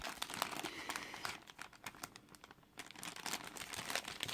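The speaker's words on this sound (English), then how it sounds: "I'm going to pop them in a paper bag. I'm going to fold it over." Paper bag being folded over while packing a letter, close crinkling and crumpling paper with small rustles and creases, fairly quiet and alone.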